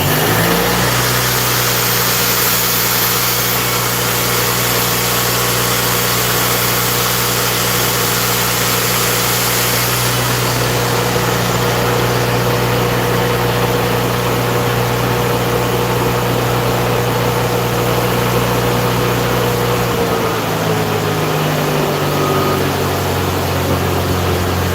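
A generator welder's engine runs steadily at idle, then revs up and shifts pitch as a large angle grinder draws about 15 amps of load, a loud, continuous mechanical drone with no talking.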